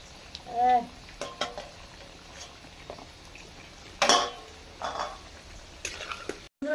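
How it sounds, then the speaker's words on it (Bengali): Palm jalebi frying in hot oil gives a faint continuous sizzle, broken by occasional clinks and scrapes of a utensil against the pan. "বাকি এই কটা আছে, এই কটা আমি ভেজে নিচ্ছি"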